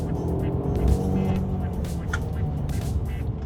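A Mercedes-Benz E350e hybrid in sport mode pulls forward and accelerates up a hill, engine and road noise building steadily, heard from inside the cabin with a continuous rumbling drone.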